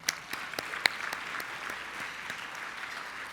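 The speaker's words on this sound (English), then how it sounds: "One more round of applause for him." Audience applause fills an awards ceremony hall at the Florida Inventors Hall of Fame, steady dense clapping with a few sharper individual claps, moderately close and without speech.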